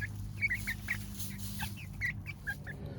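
Backyard chickens clucking in repeated short, bright calls over a low steady background hum, several birds close by with no talking.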